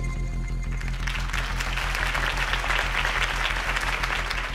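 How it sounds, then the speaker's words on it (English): Crowd applause for Harvey Dent's campaign speech in Batman: The Telltale Series, a steady dense wash of clapping from a large gathering that swells after the first second, with a low musical hum running beneath it. "If only Mr. Wayne, my campaign's largest backer, could have heard that applause"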